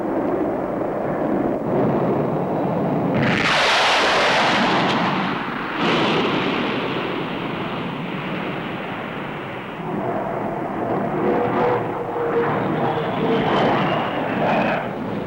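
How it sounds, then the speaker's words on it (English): A low-level naval strike jet powered by two turbojets roars past at the Farnborough Airshow, a loud sustained rumbling jet noise that swells and fades over many seconds with no voices. "It's a low-level naval strike aircraft, powered by two Jaran Junior turbojets"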